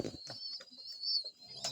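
A pet breeding pigeon coos softly in a loft, a few low murmuring calls close by and fairly faint against near silence.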